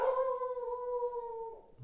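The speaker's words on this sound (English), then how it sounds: "Sorry, my dogs have seen another dog." Dogs at home giving a sustained, tonal howl that lasts nearly two seconds before breaking off, fairly near and moderately loud, with no talk over it.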